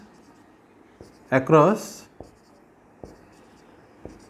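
Marker or chalk taps and strokes on a board in a physics lesson on resistor combinations. Short, regularly spaced ticks run under a brief spoken word.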